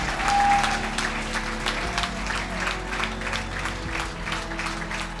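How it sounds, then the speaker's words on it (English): Crowd applauding at the Swollfest fishing rodeo 20th anniversary event, moderate steady clapping over a low ambient hum, fairly distant and sustained for several seconds. "Everybody get a big round of applause."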